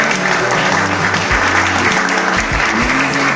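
A workshop audience gives a big round of applause to two guest presenters, dense continuous clapping close and loud, with low tonal music or voices running underneath.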